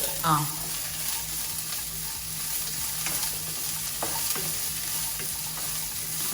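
Mixed vegetables fry in a pan with about a spoonful of oil as the base for a vegetable soup, giving a continuous close sizzle with scattered stirring scrapes and clinks and no voices.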